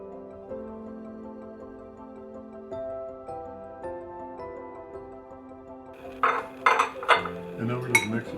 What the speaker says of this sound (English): And then we just mix it together.